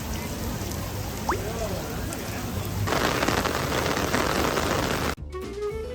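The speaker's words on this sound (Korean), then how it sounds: "비가 너무 많이 와서 우선 스타벅스로 피신했어요." Heavy rain pours down at Disneyland in Los Angeles, a dense continuous hiss of drops on surfaces that thickens partway through, with faint background clatter before cutting off abruptly near the end.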